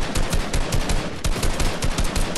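Rapid bursts of automatic gunfire in the video game Fortnite, dense, loud and close, with repeated shots running through the whole stretch and no talk over them.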